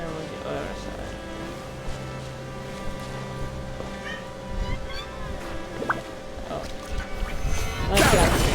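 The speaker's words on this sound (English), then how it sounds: "So, I'm assuming you can hear my cat." A pet cat meows a few times during a Genshin Impact game stream, heard faintly against steady game music, with a louder burst of noise at the end.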